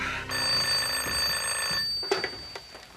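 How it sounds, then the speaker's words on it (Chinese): A telephone rings with a steady electronic bell tone in an office setting, loud and close for nearly two seconds before stopping, followed by faint handling noises. "你的电话。"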